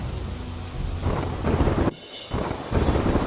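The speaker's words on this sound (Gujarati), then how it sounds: "વલસાડમાં વરસાદી માહોલ વચ્ચે દરિયો તોફાની બન્યો." Heavy rain and crashing rough sea at Tithal beach in Valsad, a loud roaring wash that surges, drops out briefly and returns, with deep rumbling underneath.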